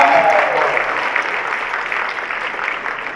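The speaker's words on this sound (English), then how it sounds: "Please give a big round of applause for her." An audience at a youth fashion show applauds a performer, a steady, fairly loud stretch of clapping lasting about three seconds with a brief tonal sound at the very start.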